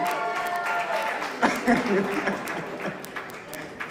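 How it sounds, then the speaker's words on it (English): Conference audience at an innovation and entrepreneurship summit gives a steady patter of applause, fairly close, with a voice speaking over the clapping. "let's continue to clap for him"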